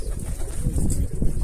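Pigeons crowd a coop, making a dense, continuous low cooing and rumbling murmur close by, mixed with light fluttering and shuffling, with no voices.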